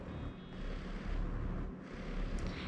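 A horse massage pad running on its low setting gives off a steady, low broadband hum and rumble. It is continuous and fairly quiet, with no voices.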